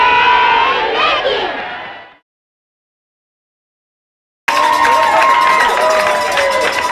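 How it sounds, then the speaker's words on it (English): Chick-fil-A employees cheer loudly in a burst of shouting and whooping at a mall grand opening, then stop for a couple of seconds of silence before the excited crowd noise picks up again, with bright ringing tones mixed in. "Employees cheering and ringing cowbells."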